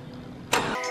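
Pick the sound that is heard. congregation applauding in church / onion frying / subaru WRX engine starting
subaru WRX engine starting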